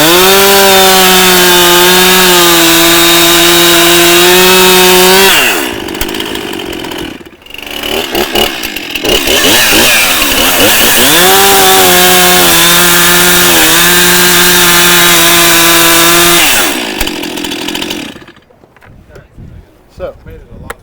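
A Stihl 261 chainsaw roars loudly while plunge cutting into red oak, the engine holding a steady high pitch, dipping as it bogs into the wood, then revving again before cutting off near the end.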